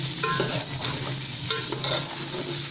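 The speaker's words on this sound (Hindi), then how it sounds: "टमाटरों को आपने अच्छे तरीके से मिक्स कर लेना है।" Tomatoes get stirred into frying keema, with a loud, close sizzle, a few scraping clatters of the spoon in the pan, and no voices.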